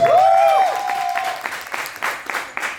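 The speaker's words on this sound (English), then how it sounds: "Let's give her a round of applause, please." Applause at an open mic poetry session in an arts gallery, following a tonal melodic sound at the start, then steady clapping from a small audience for a few seconds.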